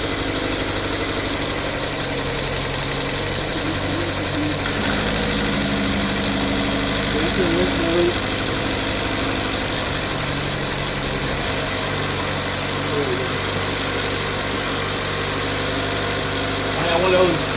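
2013 Dodge Dart engine idling steadily after its first startup, a continuous mid-pitched hum with a faint pulley noise and occasional voices nearby.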